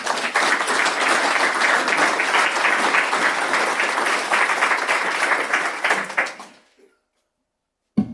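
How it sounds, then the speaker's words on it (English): A conference hall audience applauds for about six seconds, a dense, steady wash of many hands clapping that stays even in loudness and then quickly tapers off into silence. "I saw the applause, but it was a shy kind of applause."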